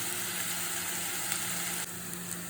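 Prawns fry in a pan for a prawn roast, giving a steady, close, hissing sizzle with no break and no voices.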